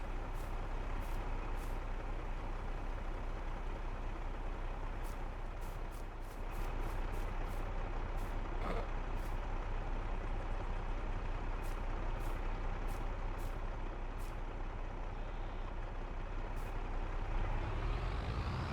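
A truck hauling a load in the Farming Simulator 22 video game, with a constant loud engine drone and a brief hiss partway through, while faint regular beeps sound throughout.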